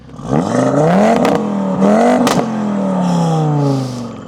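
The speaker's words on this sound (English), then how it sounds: "down here are Audi's signature oval RS tailpipes, which sound something like this." An Audi TT RS exhaust blips and revs repeatedly through oval RS tailpipes, rising and falling in pitch with throaty crackles, loud and close with no talking.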